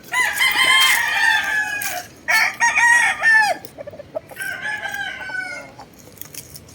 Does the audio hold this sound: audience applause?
no